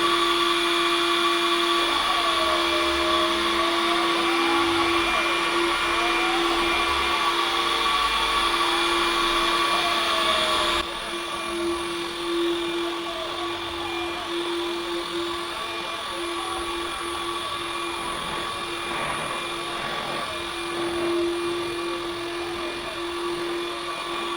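A robot window cleaner from AliExpress running on glass: a loud steady motor and suction whine that holds throughout, with a slight drop in level partway through and faint movement noises.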